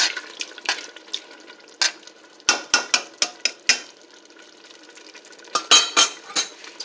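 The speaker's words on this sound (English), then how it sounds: "Let's stir this up." Spaghetti marinara sauce with garlic is stirred in a pot: a spoon scrapes and clinks against the metal in bursts, some quick and sharp, over a faint bubbling hiss.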